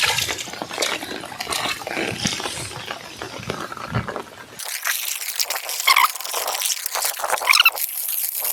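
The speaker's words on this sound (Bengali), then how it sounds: "কত জল যাচ্ছে এখান থেকে।" Water drains in a steady gush out of a muddy, freshly ploughed farm field, loud and close, its texture shifting to a brighter splashing midway, with no talk.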